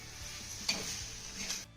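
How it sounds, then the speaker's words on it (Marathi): Cluster bean (gavar) kharda being stirred in a pan after chopped coriander is added, soft scraping spoon strokes over a faint sizzle, close and quiet, with a couple of brief clinks. "छान मिक्स करून घेऊया."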